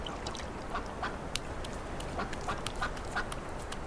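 Ducks quacking on the Bonfol ponds, a nature reserve, with several short nasal calls at irregular intervals over a steady, fairly loud outdoor ambience.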